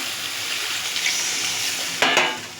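Soybean chunks fry in a hot pan with a dense, steady hiss, and near the end water poured in sets off a louder burst of sizzling that briefly swells and then eases.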